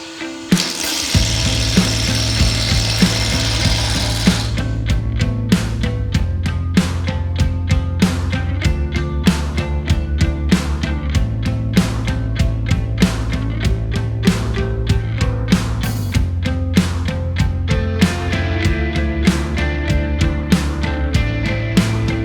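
A large wooden chalice blank spins on a wood lathe while a big roughing gouge cuts it, giving a loud, steady turning hum with a continuous chattering, scraping cut throughout.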